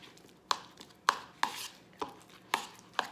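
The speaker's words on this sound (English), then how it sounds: "you want to just start stirring or mixing and mashing your egg yolks" A utensil mashes and mixes egg yolks with other ingredients in a bowl for deviled eggs, making quiet, sharp taps roughly every half second against the bowl, with no one talking.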